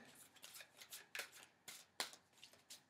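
Close, quiet riffling and flicking of a deck of large, hard-to-shuffle oracle cards being shuffled, in uneven bursts of papery snaps.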